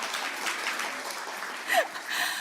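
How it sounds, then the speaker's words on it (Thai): An audience at a corporate presentation keeps up a soft, steady applause, heard at moderate distance with a brief louder swell near the end. "ขอบคุณสำหรับเสียงปรบมือที่ท่วมท้นค่ะ"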